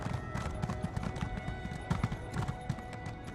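Horse hooves clip-clop in a steady, rapid rhythm as a mount is ridden in the Elder Scrolls Online video game, close and clear, with faint game background under the footfalls and no speech.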